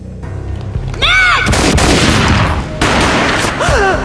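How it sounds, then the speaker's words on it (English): Heavy gunfire rings out in the PC game Max Payne (2001), with booming shots that echo and decay and a dense burst of fire, sounding loud and close with a slow-motion feel, without talk. "A gunshot boomed and she fell down in slow motion."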